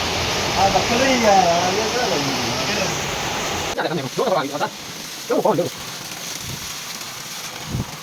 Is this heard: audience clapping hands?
no